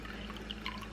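A quarter cup of rice vinegar poured into a soup pot while making keto ramen, a soft, steady liquid trickle with faint dripping, close by and alone for about a second.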